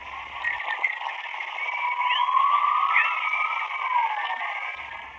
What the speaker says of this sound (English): this is the sound of the real aurora.